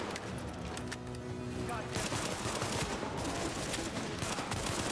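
Rapid bursts of gunfire from The Division video game, dense and continuous throughout, with a steady background din and stretches of rattling automatic fire.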